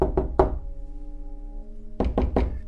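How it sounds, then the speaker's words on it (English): Knocking on a door: a quick set of three sharp raps, a pause filled with a low steady drone, then another set of three raps, close and clear with no talking. "I heard a knock at the door."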